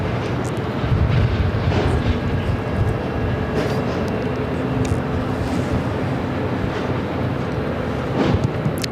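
A steady, loud roar of an airliner taking off at Phoenix Sky Harbor airport, a broad continuous rumble heard from a distance with no voices over it.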